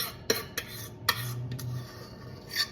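A metal spoon scrapes chocolate pie filling out of a container, giving a few sharp clinks and soft scraping strokes at close range with quiet pauses between them.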